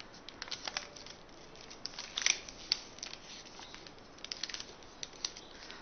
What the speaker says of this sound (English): Fold those in so their edge meet, making a long diamond shape.